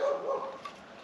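Several dogs bark at a distance outdoors near a wood delivery, a brief faint burst of yips and barks with no voices.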